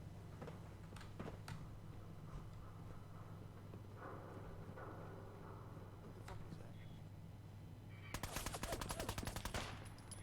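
Rapid gunfire bursts from a Fallout 4 game session break out near the end, a dense crackle of shots over a steady low engine-like hum, with speech heard earlier.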